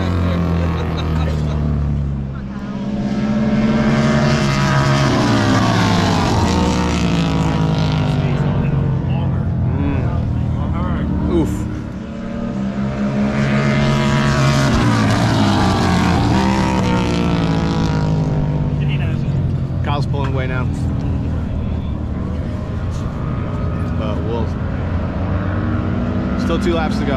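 Bagger motorcycles racing at a King of the Baggers 2022 event in New Jersey, engines roaring loud and near as bikes sweep past in two big rising-and-falling passes, with talk over the continuous engine noise.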